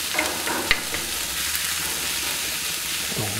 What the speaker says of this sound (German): Ja, auf jeden Fall geben wir da jetzt die Zwiebeln rein. So, und die brutzeln wir mal richtig an.